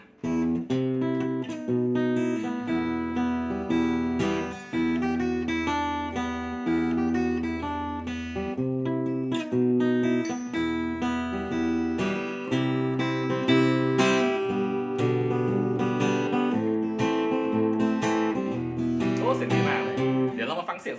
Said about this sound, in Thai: อันนี้เป็นเสียงตู้แอมอยู่นะ